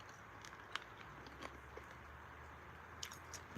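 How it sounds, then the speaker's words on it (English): Ice cubes being chewed up close, with sharp crunchy bites and crackles scattered over a faint steady background hum, several distinct crunches spaced irregularly through the few seconds. "Chewing ice cubes right now."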